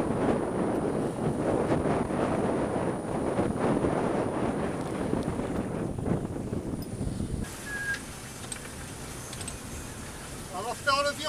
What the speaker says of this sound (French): Il y a 17 nœuds de vent toujours.